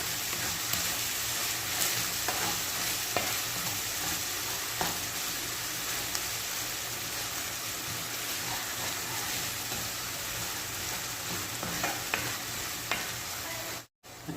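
A spaghetti sauce seasoned with Knorr chicken cubes and fish sauce sizzles steadily in a pan while being stirred, the broad frying hiss continuous and close with occasional soft utensil scrapes and no voices.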